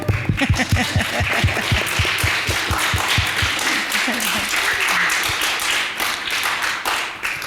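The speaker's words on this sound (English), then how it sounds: "You can clap." Applause during an inauguration day education program with state leaders, starting with sharp individual claps that blend into a loud, sustained round of clapping, with voices faintly audible.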